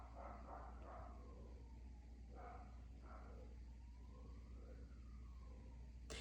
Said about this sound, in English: Can you hear that ambulance?